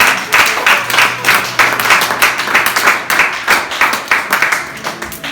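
A church congregation claps and cheers in acclaim of Jesus, a loud, steady run of applause with rhythmic clapping bursts throughout, close and full.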